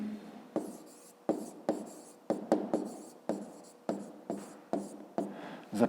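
A pen writing numbers on paper for a fifth-grade math exercise, a series of about a dozen short scratchy strokes in an irregular rhythm, close and fairly quiet.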